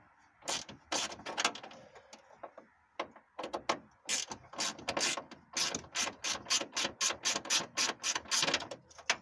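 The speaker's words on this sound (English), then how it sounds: "This little ratchet right here, 1/4-inch ratchet, is something I bought from I think AutoZone. It's Duralast brand." A 1/4-inch Duralast ratchet clicking rapidly as it backs a bolt out of a 1998 Blazer, close up in quick bursts of pawl ticks separated by short pauses, getting faster and steadier toward the end, with no talking.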